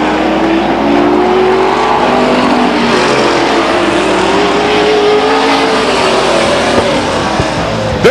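Race cars roar loud and close down the backstretch at Stockton 99 Speedway, their engines a continuous, slightly shifting drone as they pass together.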